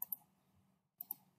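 Two quick pairs of computer mouse clicks while placing a part in Autodesk Inventor Professional 2023, each pair sharp and close, separated by a short silence with faint room noise between.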